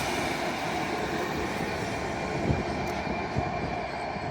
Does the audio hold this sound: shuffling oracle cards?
no